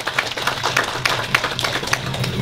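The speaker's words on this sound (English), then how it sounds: "I say we should give the Honorable John McGinley a round of applause" Crowd applause at a groundbreaking ceremony for a clinic in Cedar Grove, Antigua and Barbuda, a steady patter of many hands clapping together at moderate distance.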